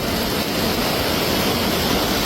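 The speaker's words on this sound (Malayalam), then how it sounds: "ആ കല്ലെല്ലാം മൂടി വെള്ളം കൂടിക്കൊണ്ടിരിക്കുകയാണ്" Loud, dense roar of rushing flood water rising over stones, a thick unbroken wash of noise like a torrent pouring over rocks, close and overwhelming.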